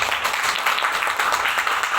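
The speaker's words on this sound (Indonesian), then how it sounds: "Tepuk tangan dong untuk ibu yang tadi." Seminar audience applauding in a brief, steady burst of dense clapping, moderately loud, without talk over it.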